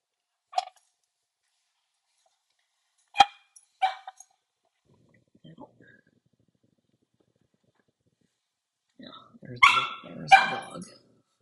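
A dog barks in scattered bursts, single sharp barks spaced a few seconds apart, then a louder, rougher cluster of barks near the end, heard clearly against an otherwise quiet room.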